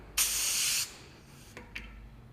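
A hand pump forcing air into a Kenda Nevegal mountain bike tire makes one sharp, steady hiss lasting over half a second, followed by two brief faint puffs, close and clear with no talking.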